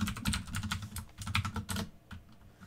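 Someone taps out a password on a computer keyboard during a server login, a quick run of close, crisp keystrokes in two bursts before the clicking stops.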